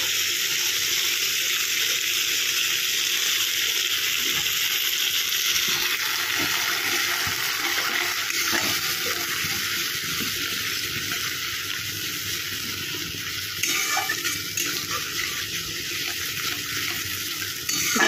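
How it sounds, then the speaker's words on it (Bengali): Spice paste for teli potol sizzles and fries steadily in hot oil, a continuous close hiss with faint stirring scrapes and no talking. "এটা ভালো করে কষাতে হবে।"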